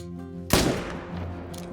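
A single loud rifle shot in theHunter: Call of the Wild, fired at a 300-meter range, cracks sharply and then rolls off in a long fading echo over a steady ambient hum.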